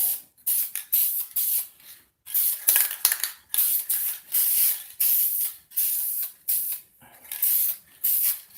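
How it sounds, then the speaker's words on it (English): High gloss polyurethane is sprayed from a can onto a masked tile inlay in short, sharp hissing bursts, about a dozen in a row with brief pauses between, loud and close. "This is polyurethane and it's a high gloss."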